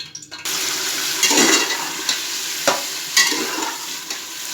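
Beef hitting hot ghee with a bay leaf, giving an abrupt start to continuous sizzling, with stirring scrapes and sputters bursting out at intervals close up.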